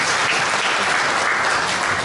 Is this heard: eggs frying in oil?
no